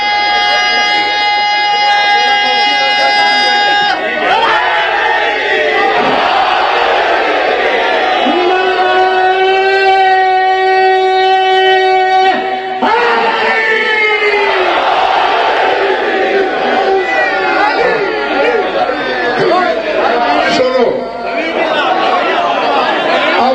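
A large crowd at a religious sermon chants slogans in loud, repeated collective calls that rise and fall in long sustained waves, with a preacher's voice interjecting between the surges.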